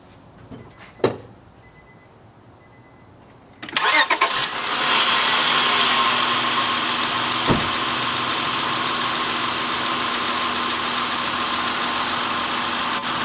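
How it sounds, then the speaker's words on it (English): A Honda Accord V6, just fitted with a new ignition coil, cranks briefly and fires up, settling straight into a loud, steady idle with a faint mid-pitched hum. "we'll go ahead and start the car and see the difference"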